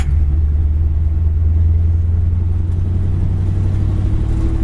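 A steady low engine drone from a 1953 Mercury Custom with a flathead engine cruising along, a smooth continuous rumble with no voices.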